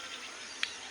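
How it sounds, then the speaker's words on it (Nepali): Flies buzz around lychees in a steady, close, high-pitched drone, with one brief louder buzz as an insect passes near. "कस्तो झिँगै"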